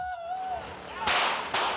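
During a car stunt show rehearsal, two sharp, loud gunshot bangs ring out about half a second apart, following a brief wavering tone.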